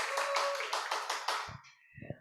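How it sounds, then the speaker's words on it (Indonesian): Audience clapping for worship leaders and band musicians at a church service, a dense burst of applause lasting about a second and a half before cutting off, followed by a few faint knocks. "Tepuk tangan dulu dong buat WL"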